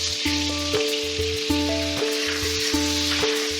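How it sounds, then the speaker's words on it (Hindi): Butter and cashew powder sizzle in a kadai, a continuous bright frying hiss with a recurring rhythmic tapping that suggests stirring, close and fairly loud, with no voices. "इस तरह से कढ़ाई में मैं बचा हुआ बटर ऐड करूंगी, इसको मेल्ट कर लेते हैं।"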